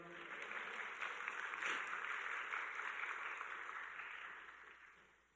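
Church audience applauding during a spring revival meeting sermon, a steady wash of many hands clapping at moderate level that holds evenly, then fades out toward the end.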